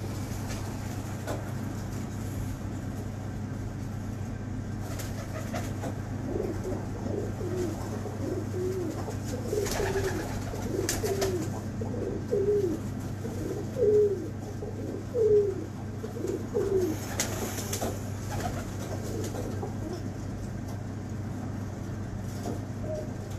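Pigeons coo in a series of soft, low, rolling calls, repeating over a steady low hum of background noise, with a few louder coos standing out toward the middle.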